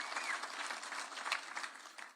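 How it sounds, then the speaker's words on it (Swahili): An indoor audience claps steadily at a political leadership event in Naivasha, Kenya, producing a dense, even patter of applause that tapers off at the end. "Tumpigie makofi huyu jamaa."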